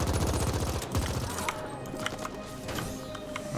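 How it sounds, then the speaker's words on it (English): Exploding barrel in The Ascent video game: a loud burst at the start followed by a rapid crackling fusillade of gunfire and debris that thins into scattered pops and clicks. "Normally, the barrel explosions don't get me as much."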